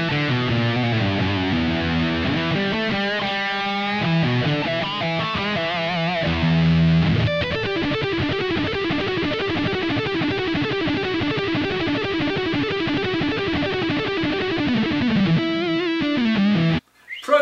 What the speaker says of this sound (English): moving over to a different setting on the THR, this is the Powerball 2 model. I've got a little chorus dialed in and some delay and reverb